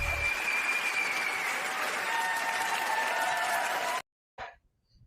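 An audience at a youth and adult summit panel applauds loudly and evenly for about four seconds, then the sound cuts off abruptly, leaving a brief faint noise.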